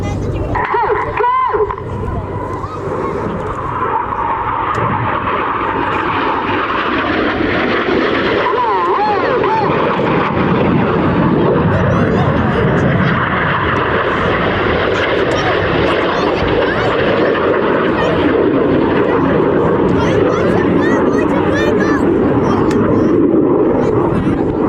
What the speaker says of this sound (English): Red 6 on the right again diving down to 100 feet and that's 700 miles per hour closure